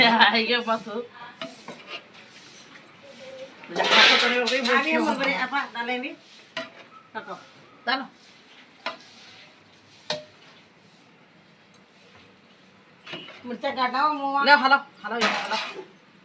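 Uggani is mixed vigorously by hand in a large pot, producing bursts of wet squelching, clinking and stirring in uneven surges while voices talk alongside.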